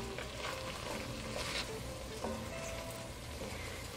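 Green onions being stirred and sautéed in a pot for a fall vegetable soup give a steady, close sizzle with soft scraping, alone and continuous.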